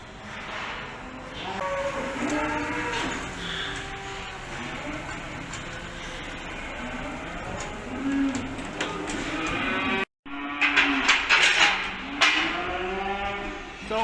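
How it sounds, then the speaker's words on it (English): Salers cattle lowing at a French livestock mart in the early morning, several overlapping moos rising and falling across the whole stretch amid general barn noise, with one brief drop to silence partway through. "She's after buying 8 Salare cattle."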